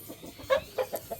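A chicken clucks in a short series of four or five quick, close clucks, the middle ones loudest, with no talk over them.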